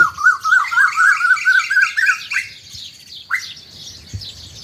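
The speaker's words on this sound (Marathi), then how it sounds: "आमच्या इथं कोकिळांचं आगमन झालेलं आहे" An Asian koel gives a rapid, bubbling run of shrill repeated notes, loud and close, then trails off into a few scattered calls.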